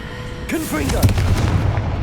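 A Confringo fire spell in the Hogwarts Legacy video game: a short spoken incantation, then a deep booming blast with a rumbling tail, close and fairly loud.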